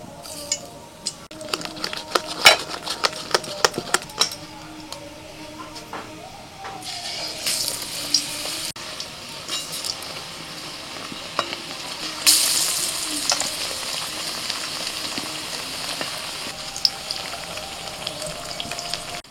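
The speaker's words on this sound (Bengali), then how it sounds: "মা বেসন ফেটিয়েছে আর ভাজছে" Eggplant fritters in gram flour batter frying in hot oil, a continuous bubbling sizzle with occasional clinks and scrapes of a utensil and pan, up close throughout.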